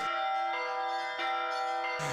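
Belarusian church bells ring in a steady peal of several overlapping strokes, bright and sustained, with new strikes roughly every half second and no talking.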